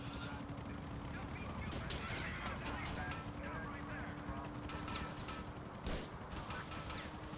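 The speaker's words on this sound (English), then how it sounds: "Now he's shooting some cops in the nuts." Gunfire aimed at police in a car-chase video game, heard as scattered sharp bursts over a dense, constant wash of engine and game noise throughout.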